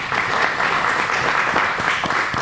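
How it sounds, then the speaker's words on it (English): A room full of people at a football press conference in a steakhouse applauds steadily, a dense wash of clapping that stays even throughout with no voices standing out. "Let's give Mr. Tony Dow a round of applause for letting us come and use his establishment"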